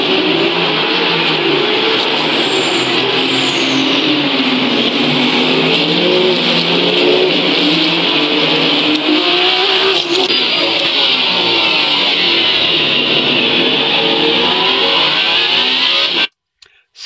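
Alpine race car engine in the sim racing game Le Mans Ultimate at Circuit of the Americas, loud and continuous, with a high engine tone rising and falling through gear changes for about sixteen seconds before cutting off abruptly.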